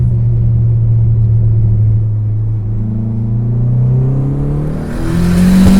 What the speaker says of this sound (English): I'm gonna do a little second gear pull here.